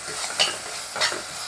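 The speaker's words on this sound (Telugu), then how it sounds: "ఇది కొద్దిగా మనకి పచ్చి స్మెల్ పోయేంత వరకు ఫ్రై చేసుకుందాం." Ginger garlic paste frying in a pan for a soya granules keema curry, a steady sizzling hiss with two soft spoon-stirring scrapes, close and without voices.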